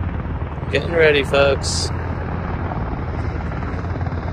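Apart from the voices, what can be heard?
military helicopter, IDF army operation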